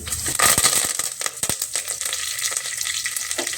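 Cumin and mustard seeds crackling and sizzling in hot oil for a vegetable saagu tempering, with sharp spattering pops early that settle into a steady close fry.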